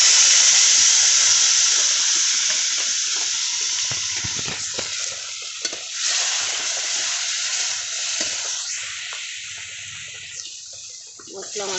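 Masala-coated fish hits hot oil in a pan, setting off a loud sizzling hiss that starts strong and slowly eases, with scattered pops, crackles and utensil clatter, and some speech in the background.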